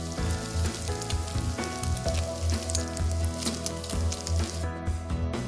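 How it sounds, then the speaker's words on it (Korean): Steady crackling sizzle of pork belly cooking on a charcoal grill plate, dense and continuous with scattered pops, fairly close and moderately loud, no voices. "직접 만든 숯구이판에 구워 먹는데요."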